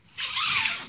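A tent zipper pulled open in one smooth, close, continuous rasping stroke lasting under a second.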